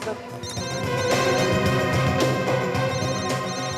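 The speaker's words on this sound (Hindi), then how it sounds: "फोन उठाओ।" A telephone ringing with a private number calling, an insistent electronic ringtone with repeating tonal bursts, loud and close, filling the whole moment without any talk.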